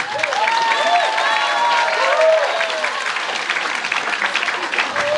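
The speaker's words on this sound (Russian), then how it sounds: "Аплодисменты." A crowd at a holiday celebration gives sustained applause, a steady loud roar of many hands clapping with voices calling out over it throughout.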